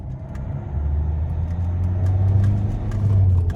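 Renault Latitude engine running with a slightly noisy, steady low rumble, heard from inside the car at a constant moderate level with no talk.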